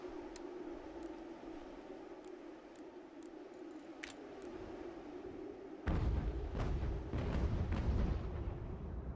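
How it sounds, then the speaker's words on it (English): Cannon fire in the battle strategy game Ultimate General: American Revolution: a low rumbling field ambience with faint clicks gives way to a surge of booming, rolling artillery blasts that hold loud to the end. "Cannon have opened fire."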